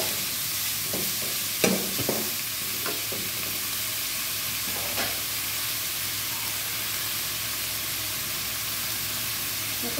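Pork stir-fried in a hot pan for a Thai pork belly and Chinese kale dish gives a steady, loud sizzle throughout, with a few clinks and scrapes from a spatula early on.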